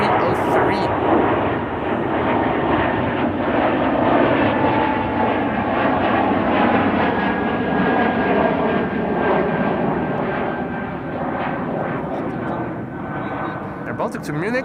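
An Air Baltic Airbus A220 airliner at Amsterdam Schiphol roars loud and close, its jet engine noise swelling and then easing across the stretch while voices talk over it.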